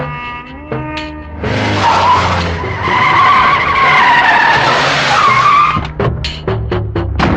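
A car reverses with its tires skidding and squealing, a loud, sustained screech that rises and holds for several seconds before breaking into shorter chirps.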